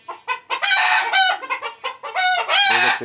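Loud, close Egyptian Fayoumi chickens clucking and squawking in rapid overlapping calls on a poultry farm, with a rooster's strained crow rising near the end.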